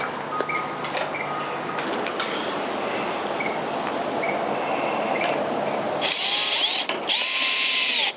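Bolts being tightened on a roof rack bracket while installing a Bush Company 270 XT awning onto an ARB base rack: a steady, close ratcheting clatter runs throughout, with louder bursts of rapid clicking near the end.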